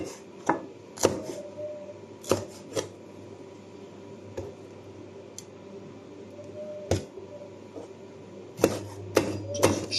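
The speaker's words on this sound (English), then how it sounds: "Just chop them." Knife chopping vegetables on a board for fried rice with a not very sharp blade, irregular sharp chops spaced out over a low steady background hum, close and fairly loud.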